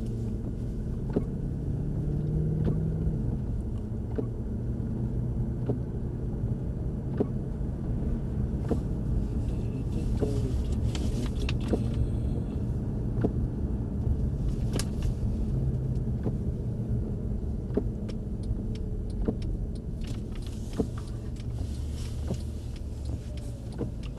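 A Mercedes C63 AMG driven on a track, its engine a steady, loud low rumble that runs the whole time with small surges and no voices.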